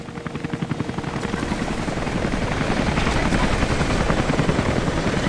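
A helicopter in Rise of the Tomb Raider thumps with rapid rotor beats that start distinct and blur into a loud, building roar as it draws near.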